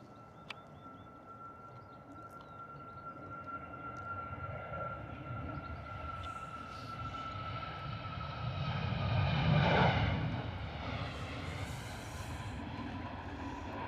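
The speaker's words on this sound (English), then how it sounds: "Ryanair heading out to Sofia 737 MAX 8-200" A Ryanair Boeing 737 MAX 8-200 heading out to Sofia from London Stansted gives a jet rumble and whine that swells to a peak about two-thirds through and then eases slightly, with a faint steady tone running beneath.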